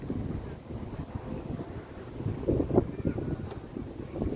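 Gusty wind buffeting the microphone in a low, uneven rumble that swells and eases, with no talking, on the OCBC Skyway.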